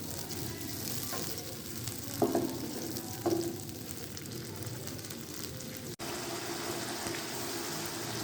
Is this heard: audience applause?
no